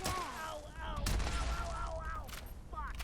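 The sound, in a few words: gunshots in the video game Fallout 76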